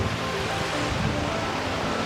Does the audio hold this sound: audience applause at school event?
no